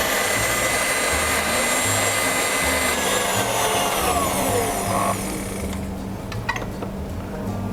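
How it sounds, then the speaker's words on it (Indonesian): A mixer beats buttercream for mocha bread topping, a loud steady whirring drone with a low pulsing motor hum that drops in level near the end, with no talking. "Ini dikocok kembali hingga tercampur rata semuanya."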